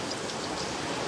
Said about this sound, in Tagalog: Ang lakas ng ulan dito.